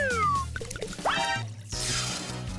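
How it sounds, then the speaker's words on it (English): Tea poured out into a bucket, a short liquid splash and trickle heard over a tonal music bed, with a brief bubbling burst partway through. "My tea doesn't taste so good. Can I pour it out?"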